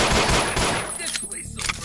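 Shotgun blasts from enemy thugs in the post-apocalyptic video game Ashes 2063, a burst of loud, sharp reports in quick succession that fade into a ringing tail.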